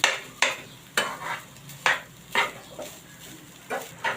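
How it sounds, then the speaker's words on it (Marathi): Khoa and fresh coconut being stir-fried in a pan over a low gas flame, with a spoon scraping in distinct rhythmic strokes roughly every half second, close and clear, with no talking. "खवा आणि खोबरा आपण परतून घेत आहोत"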